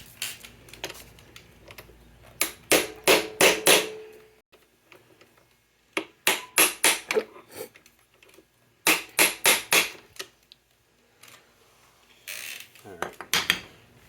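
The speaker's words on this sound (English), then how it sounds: "I like to seat the bit, turn it, give it a couple, 2, 3 whacks." Sharp metallic hammer taps drive a screwdriver bit into a screw during work on a Suzuki K11 car, arriving in four clustered bursts of several quick, close, loud strikes separated by short pauses.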